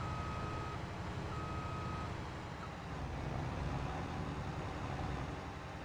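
A vehicle fitted with the Nexat carrier system mod reverses in Farming Simulator 22, giving off steady, intermittent reversing beeps over a constant engine rumble. No one speaks.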